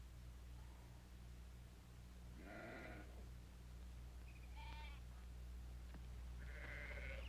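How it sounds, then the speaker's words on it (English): Sheep bleating in a flock being driven out on a range, a few separate calls spaced over several seconds against a steady low hum and faint rustle, fairly distant. "help me get those sheep on the move"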